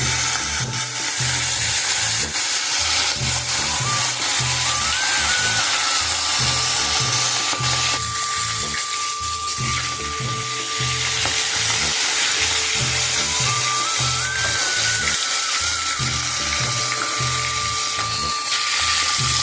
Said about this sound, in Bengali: তেলটা গরম হবে তো আমি মাছটা দিয়ে দিচ্ছি